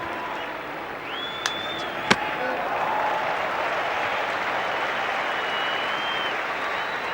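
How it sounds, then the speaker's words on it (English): A cricket crowd at a 1985 India versus England one-day match applauds a fine piece of fielding, a steady, distant roar of clapping from the stands, broken by a couple of sharp knocks. "And a round of applause for a fine piece of fielding."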